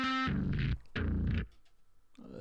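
Bass guitar run through a Darkglass Vintage Ultra distortion pedal, a few short gritty, harmonically rich notes with gaps between, close and moderately loud, heard alone.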